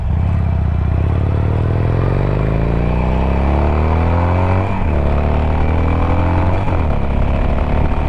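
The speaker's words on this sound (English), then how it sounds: "Definitely got plenty of get up and go." A 2021 Harley-Davidson Iron 1200 motorcycle accelerating hard on a freeway, its loud engine drone rising steadily in pitch through two gear shifts, with constant wind rush throughout.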